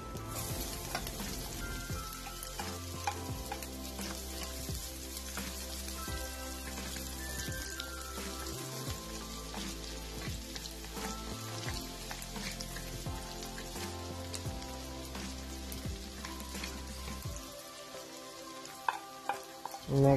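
Onion frying in rendered bacon fat in a pan, a steady crackling sizzle that runs unbroken and close, with occasional louder pops near the end and no voices.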